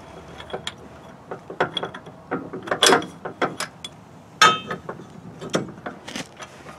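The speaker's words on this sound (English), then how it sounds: "first step is going to be sliding the spacer on" A large metal spacer ring slides and clanks onto a jack's inner tube during a flip foot installation, giving scattered close metallic clicks, scrapes and knocks of uneven rhythm.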